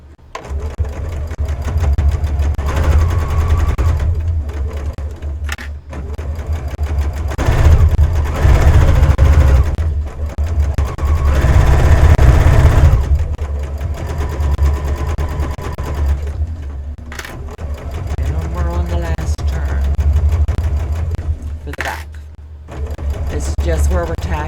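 Sewing machine stitching a fabric place mat in bursts of rapid mechanical whirring, close and loud, pausing between runs while a person talks.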